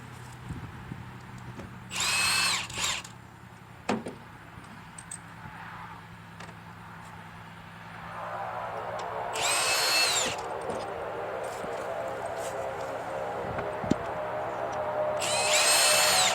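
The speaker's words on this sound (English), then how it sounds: "Now if you want to use power tools, only use them on taking it out." Power tool, likely a drill or impact driver, spinning in reverse to take out spark plugs and ignition coils on a 2010-2015 Toyota Prius. It runs in three short loud bursts with quiet stretches between, and a steady hum builds in the background later.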